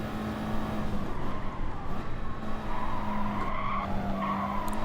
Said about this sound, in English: Just braked a bit early there